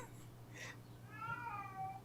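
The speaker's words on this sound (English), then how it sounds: "My cat wants feeding. It's breakfast time." A hungry cat meows for breakfast: one short high call followed by a longer, drawn-out wavering meow, moderately close against a low steady background hum, with no talking.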